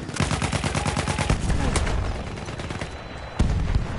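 Dense gunfire rattles on in Battlefield 1 during a hardcore Conquest match on PS4 Pro: rapid automatic bursts and single shots overlap with a loud blast near the end.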